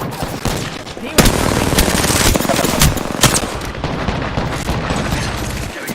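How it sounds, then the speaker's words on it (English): Automatic gunfire in the video game Apex Legends, loud rapid bursts with sharp individual cracks and a few heavier impacts, close and sustained over several seconds. "Getting shot at."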